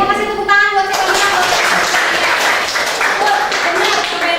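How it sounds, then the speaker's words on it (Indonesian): Clapping in a classroom or lesson setting, a steady patter of hands following a brief harmonic voice at the start, continuing at moderate level throughout. "Dia kasih tepuk tangan buat saya"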